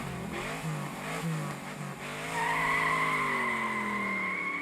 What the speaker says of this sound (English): Damn, that engine is so loud.